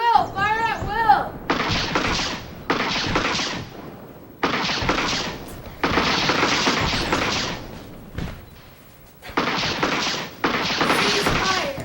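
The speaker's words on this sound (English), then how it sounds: "Fire at will! Fire at will!" Repeated bursts of musket volleys crackle loudly in a staged battle between troops and rebels, several long rattling salvos with short gaps between them, and a voice shouting briefly at the start.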